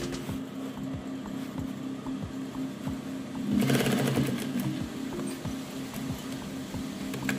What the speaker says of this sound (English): Try not to sew over your pins, because it sometimes can blunt your needle and damage the pin as well.